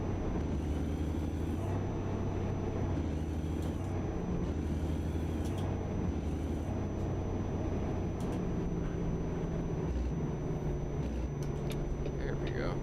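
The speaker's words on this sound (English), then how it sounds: "Now I have to downshift all the way down to 7th" Heavy truck engine in American Truck Simulator droning steadily through downshifts, with low tonal steps in pitch as gears change and a brief hiss of air brakes, continuous and close, with a voice talking over it.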